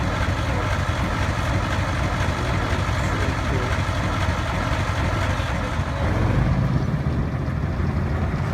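A European tank's diesel engine idles after a cold start, producing a broad, muted, steady low rumble that continues unbroken throughout, with a slight deepening near the end.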